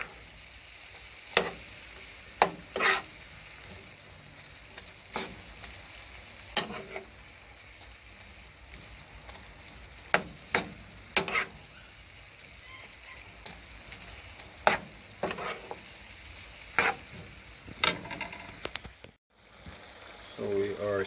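Curry shrimp fry in a pan with a soft, constant sizzle, broken by sharp clacks and scrapes of a utensil as it is stirred at irregular intervals.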